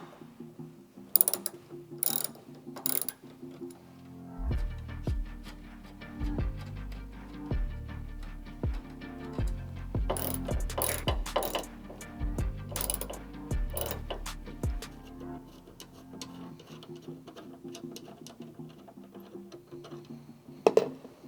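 A hand ratchet clicks as it backs out 10mm taillight bolts on a third-generation Toyota Tacoma, a quick rhythmic run of sharp ticks with a few pauses, close up and clear with no talking.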